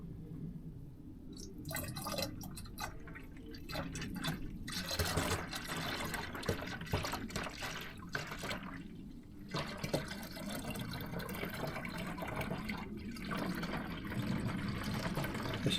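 Premixed antifreeze coolant glugs and trickles steadily as it is poured into the cooling system of a Mercedes 410D van, a continuous close liquid flow with small splashes and drips throughout.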